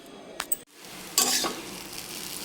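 Chow mein with onion and potato stir-fried in a pan: a couple of light utensil clinks, then a bright sizzling surge under stirring that settles into a steady fry.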